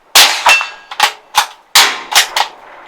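A budget rifle of about fifty euros fired outdoors for hunting or survival testing, several sharp loud cracks in sequence, each followed by a distinct metallic ring of the bullet hitting a target, close and clear with no talking.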